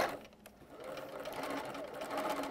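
A sewing machine stitches darts into a bra being made into a face mask, a continuous close motor whir with rapid needle chatter, faint and alone.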